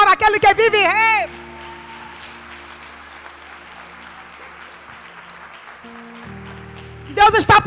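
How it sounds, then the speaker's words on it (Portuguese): A church congregation claps in a burst of applause lasting about a second and a half, then it fades and fresh clapping breaks out near the end. A preacher's voice is heard at the start. "Você pode dar uma salva de palmas para aquele que vive e reina."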